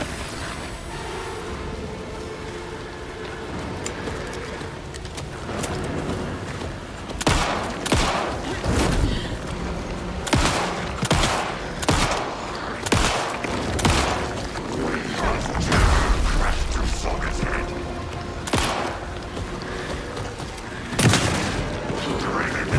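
Gunfire in the video game Alan Wake 2, a series of sharp, loud shots in an irregular rhythm over a murky ambient background, with a few heavier booming bursts.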